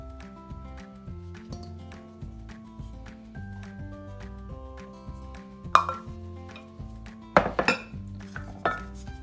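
Sourdough starter and bread flour mixed in a bowl, a utensil clinking and scraping against the dish in irregular knocks, with a few louder clanks near the end, while a steady musical hum plays underneath.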